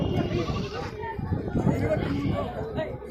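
Goats bleating amid a busy goat market in Udayarpalayam, with calls rising over constant crowd chatter and bargaining voices close by.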